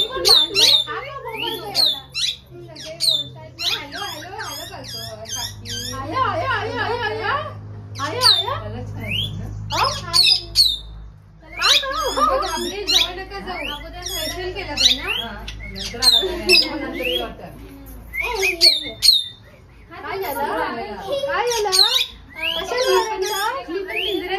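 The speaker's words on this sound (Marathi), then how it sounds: "पोपट आणलं त्यांनी." Pet parrot squawking indoors, repeated harsh squawks and chattering calls in uneven bursts, close and loud, with people talking at times in between.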